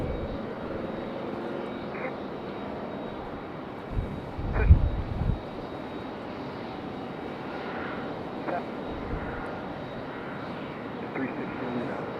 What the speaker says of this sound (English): coming in from Frankfurt. This one a 9-hour and 10-minute flight on that Airbus A330-300 in the new paint